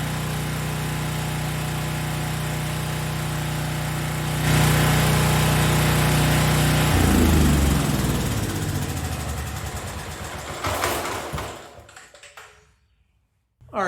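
A NashFuel tri-fuel portable generator running on natural gas after a conversion kit install, its engine droning steadily and loud, rising briefly, then winding down and cutting off near the end.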